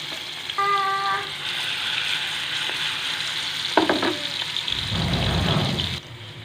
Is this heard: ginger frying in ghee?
yes